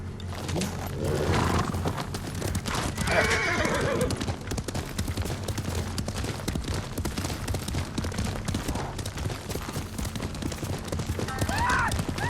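Horses gallop in the video game Ghost of Tsushima, a dense continuous drumming of hooves close by with whinnies and neighs, plus a brief burst of gunfire-like cracks, all loud and sustained.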